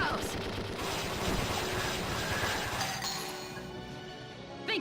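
Gunfire during an attack in the video game Valkyria Chronicles, dense rapid bursts of shots in a loud, continuous barrage with clinks and crashes mixed in.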